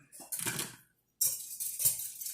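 Frittata batter with green onions is whisked in a bowl, giving two bursts of quick clinking and scraping of utensil on dish, separated by a short pause.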